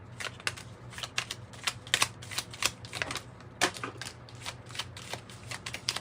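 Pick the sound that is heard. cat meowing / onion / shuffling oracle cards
shuffling oracle cards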